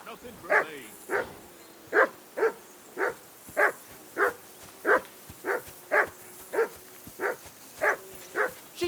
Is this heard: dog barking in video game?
yes